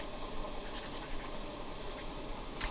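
Brush marker nib stroking over paper for brush lettering, a soft continuous scratchy drag with a few brighter swipes, close and fairly quiet with no voices.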